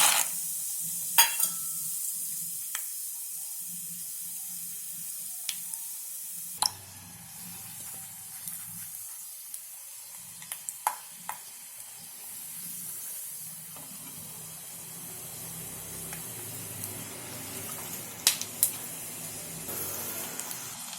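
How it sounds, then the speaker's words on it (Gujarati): Peanuts deep-fry in hot oil with a continuous bubbling hiss and sizzle, broken by occasional sharp clinks and pops of a utensil stirring, close and steady throughout with no voices. "હવે આપણે સિંગદાણા તળશું"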